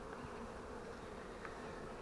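A large honey bee swarm settled on a swarm box during hiving onto five frames, humming in a steady, soft, continuous drone with no voices.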